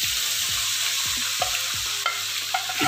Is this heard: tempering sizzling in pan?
yes